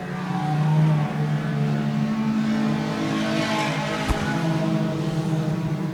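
Junior sedan race cars lapping a race track in a close pack, engines droning steadily with shifting pitch as they pass along the main straight, a sustained loud blend of several motors.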